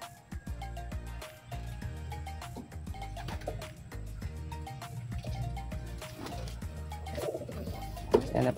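Racing pigeons in a loft coo steadily, several low rhythmic calls overlapping close by, with faint drips and small clatters in the background.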